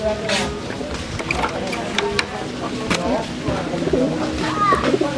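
Racing pigeons coo inside a loft in Binloc, Dagupan City, soft throaty calls rising over a busy background while someone talks nearby and occasional sharp clicks and rustles come through.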